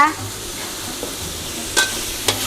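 Pork stir-fries in a pan with a soft, continuous sizzle, broken by a few sharp scrapes and clinks of a spatula against the metal, with no talking.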